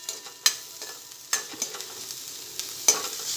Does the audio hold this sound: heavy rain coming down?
no